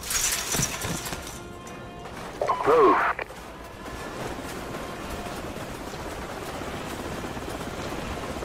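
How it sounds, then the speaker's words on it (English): Enemy helicopters arrive in Call of Duty 4: Modern Warfare, a steady rotor drone holding under the battle mix, joined briefly near the middle by a louder mechanical burst. "Enemy helicopters."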